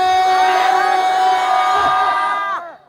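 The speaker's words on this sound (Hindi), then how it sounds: "भीड़ ज्यादा होने से इधर से हो हल्ला उधर से हो हल्ला" A large crowd at a religious conference raises a loud, sustained chorus of massed voices that holds steady and then cuts off sharply near the end.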